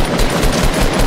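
Rapid automatic gunfire in the video game Fortnite, a dense, loud burst of quick repeated shots lasting about a second with no voices.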